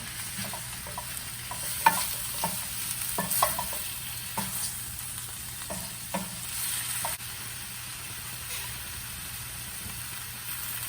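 Green kale and shrimp stirred in a pan with coconut milk, a spoon scraping in several scattered strokes over a steady soft sizzle and faint background hum.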